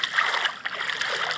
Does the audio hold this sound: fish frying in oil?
no